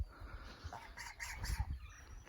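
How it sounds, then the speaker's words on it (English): Newly raised laying hens in a mobile coop on a homestead cluck softly and intermittently, a few louder calls rising near the end over faint background noise. "We've got our birds from this year, our new layers. They're in a mobile coop."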